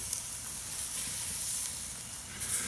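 Pork country style ribs searing on a hot grill give off a steady, soft sizzle with faint hiss, quiet and even throughout with no talking.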